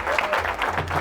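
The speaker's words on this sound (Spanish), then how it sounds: "Fuerte aplauso, por favor" An audience at a mentoring seminar applauds loudly and continuously, with a thick wash of many hands over a low background hum.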